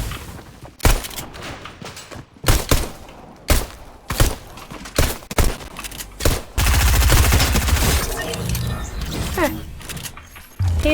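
Rapid gunfire from a pistol and a submachine gun in a video game, with bursts of sharp shots and clicking mechanical sounds, followed by a longer sustained stretch of fire.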